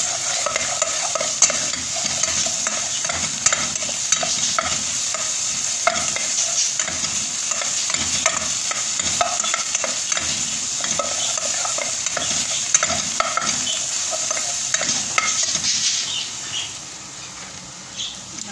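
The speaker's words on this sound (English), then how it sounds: "Lagay natin yung ginger at saka yung garlic paste." Ginger and garlic paste frying in a pan, a steady close sizzle with repeated scraping of a utensil stirring, continuous for most of the stretch before easing slightly at the end.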